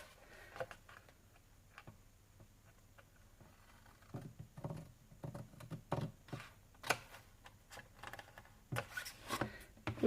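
Paper being cut with a blade for a handmade winter craft album: quiet, sparse scraping and ticking strokes, a run of faint close-up taps and cuts with no talking.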